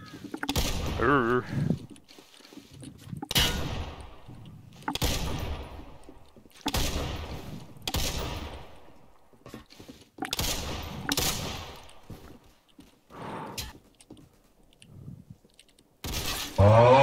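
Bursts of gunfire in the Roblox game Criminality 2, a series of sharp, loud volleys separated by short pauses, each rattling out in rapid shots, with a player talking between some of them.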